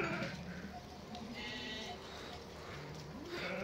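Milk-fed lambs bleat repeatedly as they meet their mothers, several overlapping calls rising and falling over a steady farmyard background, moderately distant and fairly faint.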